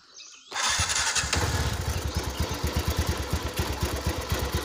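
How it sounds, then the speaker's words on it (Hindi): A TVS Ntorq 125 scooter engine cranks and fires after a short quiet moment, then settles into a steady, close, rhythmic idle with regular pulsing. "स्कूटर जो है वो स्टार्ट हो गया है"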